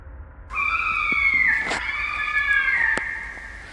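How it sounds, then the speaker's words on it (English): A fisher screams in the woods at night, a single drawn-out, wavering shriek lasting a few seconds, loud and harsh over faint background noise. "this is the sound of the fisher cats in the woods behind my house"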